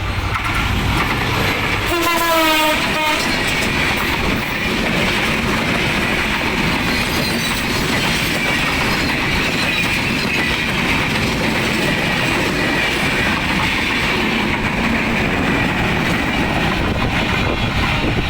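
An Ekota or Drutojan Express train rumbles past steadily and loudly, its horn sounding briefly near the start, with continuous wheel noise throughout.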